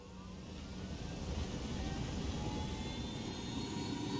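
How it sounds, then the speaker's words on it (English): A helicopter flies in the Ghost Recon Wildlands video game, giving a steady, loud, broad engine and rotor roar that builds slightly and then holds, with no talk over it. "You're in the helicopter."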